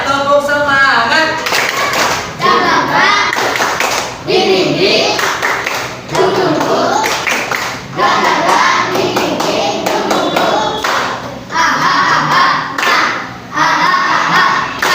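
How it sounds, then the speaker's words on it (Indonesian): Indonesian classroom in a teacher-training lesson doing tepuk semangat, a patterned spirit clap, with many hands striking in rhythmic bursts separated by short pauses, loud and close, with a voice calling out between rounds. "Mulai, semuanya tepuk semangat."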